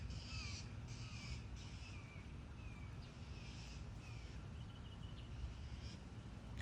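A crow caws repeatedly in short, evenly spaced calls, faint and distant over a steady outdoor background hum.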